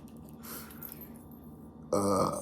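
A person burping after eating a Lunchable: one short, loud, close belch bursting out at the end after a quiet stretch of room noise.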